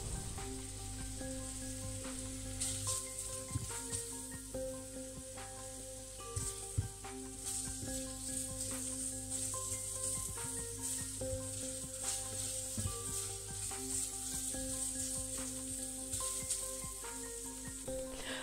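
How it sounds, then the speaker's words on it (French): Onions sautéing in olive oil in a pan, a continuous crackling sizzle with scattered pops and occasional stirring, close and moderately loud. "je mets de l'huile d'olive, hein, mais vous pouvez très bien mettre l'huile de votre choix. Et je viens faire rissoler les oignons."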